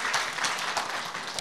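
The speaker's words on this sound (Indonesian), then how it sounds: "Yang percaya berikan tepuk tangan dulu buat Allah kita." A church congregation applauds during a worship service, a continuous dense wash of many hands clapping together, moderately loud and slightly distant, with no speech over it.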